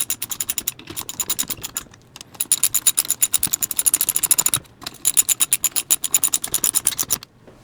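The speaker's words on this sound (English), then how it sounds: "So I'm just going to torque it to 20 foot-pounds" A ratchet torque wrench clicks in rapid, even bursts while bolts on a Triumph TR4 gearbox are tightened, several runs of close, sharp ratcheting separated by short pauses, with no talk.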